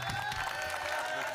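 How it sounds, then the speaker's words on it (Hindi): An audience at a Hindi comedy poetry gathering claps to honour the poet Harminder Pal in a short, dense burst of steady applause. "जोरदार तालियां एक बार दोनों हाथ उठाए भाई हरमिंदर पाल के सम्मान में।"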